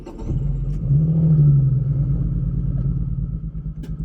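Cold start of a Lotus Evora with a blown engine, a close, deep rumbling idle that swells as the engine revs, then settles into a rough, uneven throb, with no talking.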